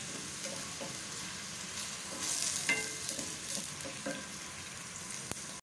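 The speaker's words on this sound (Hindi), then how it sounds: "प्याज को अच्छी तरह से फ्राई करें।" Onions frying and being stirred in hot oil in a pan, a soft continuous sizzle with scraping stir sounds that grow louder midway, quiet and close, with no talk.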